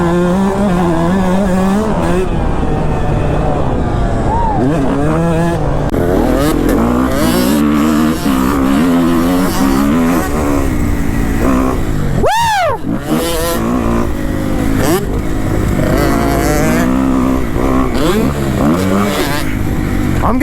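Group of dirt bikes riding together, including a Honda CRF350R four-stroke, Yamaha YZ125 and KTM 150SX two-strokes, with loud continuous engine noise rising and falling through revs, a close pass midway, and voices faintly under it.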